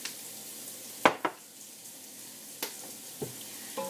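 Oil sizzles and crackles in a dry-bottomed pan while cooking potato cheese soup, with a steady frying hiss punctuated by a few sharp pops and clatters of a utensil against the pan.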